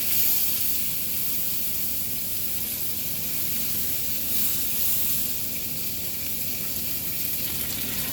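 Hamburger patties sear in a hot pan, giving a steady, even sizzle and hiss that holds at a constant level for the whole stretch, close and alone with no voices.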